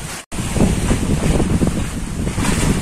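Stormy ocean waves around a small boat, a heavy continuous roar of surf and wind buffeting the microphone after a brief dropout at the start.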